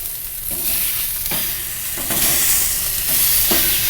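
Molasses and cinnamon brined pork chops frying in a pan, a steady loud sizzle with bursts of crackling spatter, rising slightly in intensity partway through, no voices.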